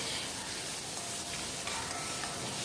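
Masala paste for paneer curry fries in a hot pan while being stirred, giving a steady, close, dense sizzle that runs throughout without pause and with no voices over it.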